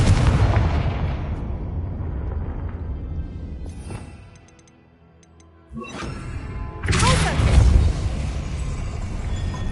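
A Confringo fire-blast spell explodes in Hogwarts Legacy: a loud, booming burst with a rushing, crackling tail that fades into near silence before a second heavy blast erupts and rumbles on.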